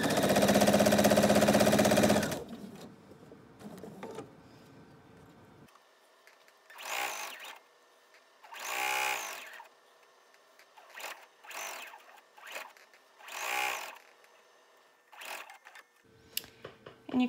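Sewing machine stitching fabric strips together for a quilt pillow, a loud run at the start followed by several short bursts of stitching separated by quiet pauses.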